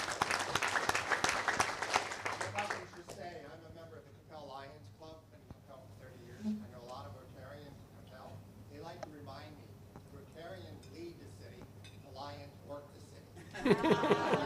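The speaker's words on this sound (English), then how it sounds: "Give him a big welcome, round of applause." Members at a Rotary Club meeting give a brisk round of clapping, which gives way to someone speaking over a quiet room with a few chuckles, before a second burst of applause starts at the very end.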